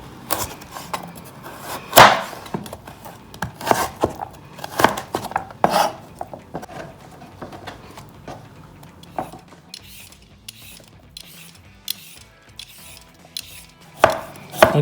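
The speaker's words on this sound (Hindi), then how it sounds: "कुछ हिस्सा हम ये इसके पीसेस काटेंगे गोल" A kitchen knife cuts a vegetable into round pieces for an Italian salad, making irregular sharp chops against a cutting board that come close and fairly loud and are spaced by short pauses.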